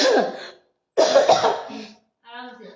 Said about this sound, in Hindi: मुझे थोड़ा खांसी का भी प्रॉब्लम है,